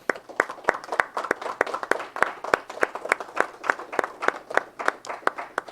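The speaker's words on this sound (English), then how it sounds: "I'll do a round of applause for Fong." Applause at a city council meeting award, a small group clapping in a steady, fairly close rhythm of sharp individual claps with no talk over it.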